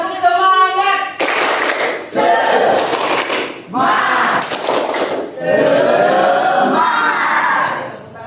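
A classroom group performs a rhythmic spirit clap, bursts of patterned clapping mixed with loud chanted and shouted voices, coming in several distinct phrases separated by brief pauses.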